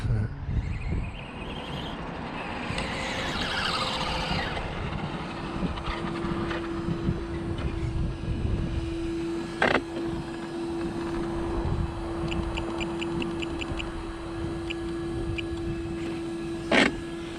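A Traxxas Slash Street Eliminator RC truck runs with its electric motor whining steadily at moderate distance, pitch rising and falling as it accelerates, with tire and surface noise underneath.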